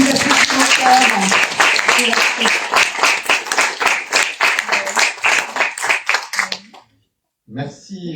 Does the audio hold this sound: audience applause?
yes